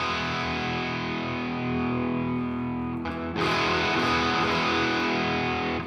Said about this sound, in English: I have a steel string singer, and I'm going to put a little drive on that